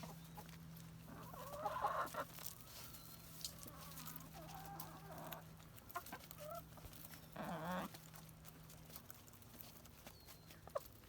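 Backyard hens cluck and murmur while pecking at a tossed handful of GrubTerra grub treats, soft overlapping calls rising in short bursts over a quiet outdoor background, with no talking.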